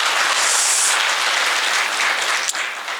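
Office staff applaud in a room after a manager announces a rooftop rest area, a steady close wash of clapping that carries evenly through the whole moment.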